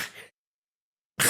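A single sharp sneeze, the faint intake at the start and then a loud explosive burst at the end after a brief silence, close to the mic.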